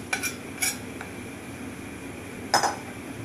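Fried stuffed bitter gourd is moved from a pan into a dish, bringing a few sharp metallic clinks and scrapes of utensil against cookware, spaced apart over a quiet kitchen background.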